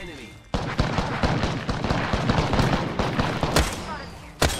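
R-301 rifle firing in a game, sharp rapid shots in bursts over roughly four seconds, loud and close, with a voice speaking in between.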